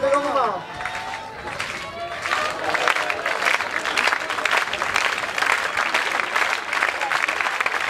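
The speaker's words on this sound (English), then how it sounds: "First clap in the stadium." A tennis stadium crowd at a men's final breaks into sustained, dense applause after a point. The clapping is broad and steady, and a commentator's voice is heard near the start.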